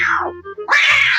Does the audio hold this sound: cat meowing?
yes